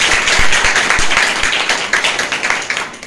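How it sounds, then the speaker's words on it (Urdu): A church congregation at a Friday healing meeting claps loudly and continuously, a dense burst of applause with some sharp individual claps standing out. "زوردار تالیاں لگائیں اسلام کے لیے"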